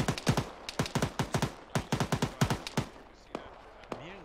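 Rapid bursts of gunfire in the game ArmA 3 crack in quick irregular volleys, loud and close, thinning out to a few scattered shots with faint background activity.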